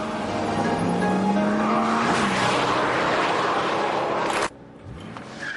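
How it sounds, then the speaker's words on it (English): A Brabus V12 S Roadster, a heavy two-ton convertible with a huge V12, roars loudly as it accelerates hard, tyres squealing for grip in a rising whine, before the engine note drops away abruptly near the end. "Away he goes, tyres struggling to contain all the torques."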